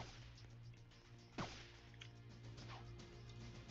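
A ball is struck back in a video game with a single sharp swishing whack that cuts through a steady low in-game hum, followed by a couple of faint softer swipes.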